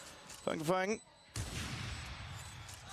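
Gunfire in a Valorant pro match between DRX and TRACE on the map Lotus: a sharp, loud burst of shots with a sustained noisy tail, following a short stretch of excited voice.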